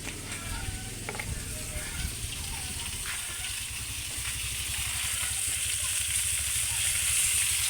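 Oil added to fish frying in a pan, a steady crackling sizzle throughout that grows slightly louder toward the end, with no speech.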